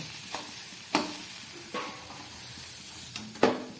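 Chana dal fries in a pan with a soft continuous sizzle, broken by several sharp spatula taps and scrapes as it is stirred.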